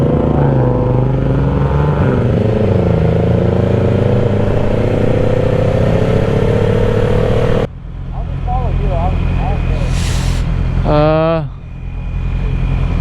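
A Yamaha R6 sport motorcycle being ridden, its engine droning loudly and steadily with a brief dip and surge in revs, wind rush over the top and voices talking nearby.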